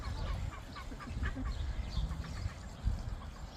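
Several ducks call outdoors in overlapping honks and quacks at moderate distance, dense and continuous over a low background rumble.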